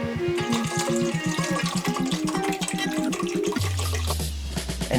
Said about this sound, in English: And now we're going to add some water.